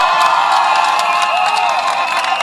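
A political rally crowd in Kenya applauds and cheers loudly and continuously, dense clapping with scattered shouts and whoops filling the space for a couple of seconds.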